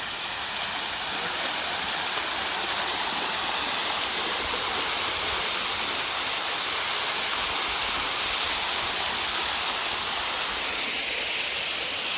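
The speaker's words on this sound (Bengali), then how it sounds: "ঝর্ণা" Steady, broad rushing of falling water from a fountain at Mohera Zamindar Bari, Tangail, Bangladesh, continuous and fairly loud throughout with no voices.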